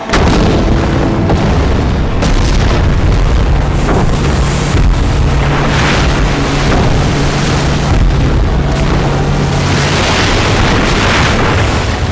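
Warships firing on an inlet in a monster movie battle, heavy booming blasts and rumbling roar layered over loud wind and water noise throughout.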